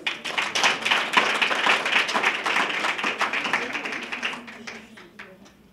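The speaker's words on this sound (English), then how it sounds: "Please can we give her a round of applause?" A graduation ceremony crowd applauds, a thick, steady wash of clapping that swells early, holds, then thins and fades toward the end.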